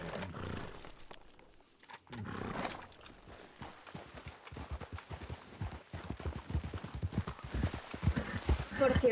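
Horse hooves clip-clop in Red Dead Redemption multiplayer (RedM), a quick steady rhythm of close hoofbeats that grows louder, with people talking over it.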